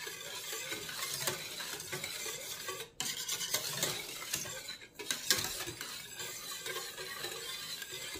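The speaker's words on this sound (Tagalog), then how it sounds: "Halo na rin natin yung asukal." Steady scraping and stirring of sugar into a maha blanca mixture in a pan, a continuous close gritty swishing with faint sizzle and utensil clinks, no voices.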